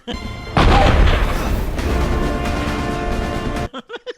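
A photon torpedo strikes and explodes in Star Trek: Starfleet Academy, a loud booming blast that rumbles and decays for about three seconds before cutting off into a few short tonal blips.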